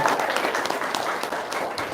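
An audience at an Islamic gathering breaks into applause, a dense, steady patter of many hands clapping at moderate loudness throughout, with no clear talk over it.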